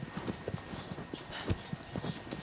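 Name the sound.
horse hooves galloping, from Shadow of the Colossus video game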